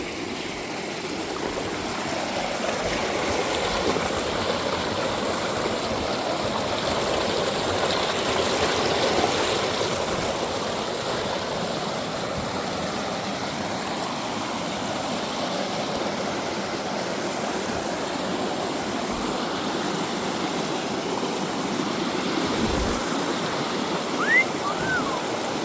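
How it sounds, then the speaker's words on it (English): A river near Aira Force waterfall at Ullswater rushes steadily, a broad, unbroken roar of flowing water close by that keeps a constant level throughout with no voices over it. "I love this river"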